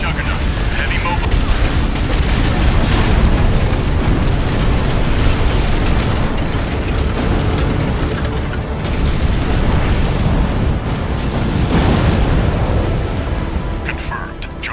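Heavy, continuous explosions and booming impacts as the Juggernaut heavy mobile weapon is destroyed in the Armored Core 6 video game, loud, dense and rumbling throughout, with a brief voice over the din.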